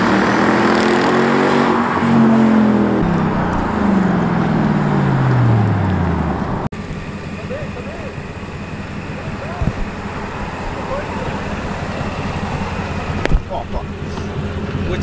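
A Mercedes CLS 55 AMG accelerates hard from inside the cabin using paddle shifts, its loud engine note rising in several sweeps broken by gear changes, then settling into a steady road roar at cruising speed.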